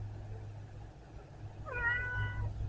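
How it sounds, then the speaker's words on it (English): A single drawn-out cat meow, fairly close and clear, rising then falling, over a steady low hum. "Nothing but meow."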